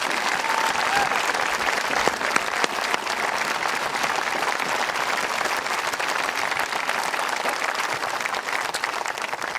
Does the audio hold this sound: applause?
yes